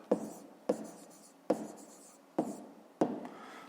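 Pen or chalk strokes writing numbers while solving a fifth-grade math exercise: five short, crisp taps and scratches at roughly even intervals, close and fairly quiet, with no talk over them.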